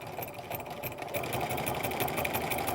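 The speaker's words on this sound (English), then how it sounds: "I'm just going to go ahead and start sewing right next to that center" A sewing machine stitches through thick layers of fabric for a basket project, a fast, even mechanical whirr that picks up speed and loudness after the first second and runs on without a break.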